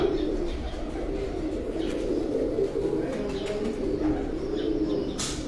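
Teddy pigeons cooing softly at close range, low murmuring coos running continuously over a steady background hiss, with a brief flutter or chirp near the end and no voices.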